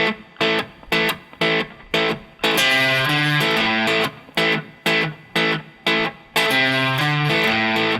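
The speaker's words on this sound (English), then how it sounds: "that's when you step on your distortion pedal or turn your guitar volume up all the way to get the distorted sound" Electric guitar riff played through a distortion pedal for a main riff: loud, saturated chords in short stabbing bursts with gaps, then longer sustained crunchy chords ringing out, no voices.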